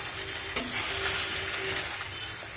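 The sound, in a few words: stirring fried paneer in spinach paste in pan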